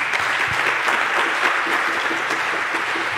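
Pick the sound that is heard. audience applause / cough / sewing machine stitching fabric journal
audience applause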